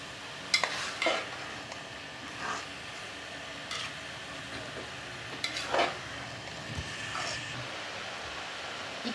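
Minced meat (keema) with beans frying in a pan and being stirred, with irregular scrapes and clinks of the spoon over a low sizzle, close by.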